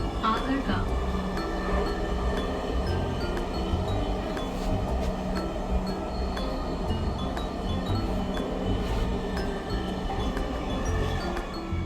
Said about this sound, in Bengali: এই যে ট্রেনটা আবার ছেড়ে দিবে